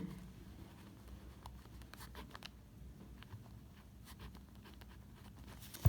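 Pen or pencil scratches on paper in short, soft strokes while a math problem is written out, quiet and close with irregular pauses.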